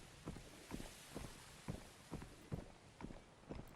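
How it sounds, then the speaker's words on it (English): Soft, evenly spaced footsteps thud in a video game, about eight steps at a walking pace, muffled and moderately close with no talk over them. "I won't do the key while I heard those footsteps."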